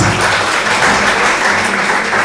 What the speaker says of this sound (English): So please give a round of applause for this.